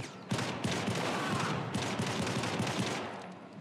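Rapid gunfire and a bursting canister in the video game Syndicate, a dense run of loud repeated shots filling the whole stretch with no talk over it.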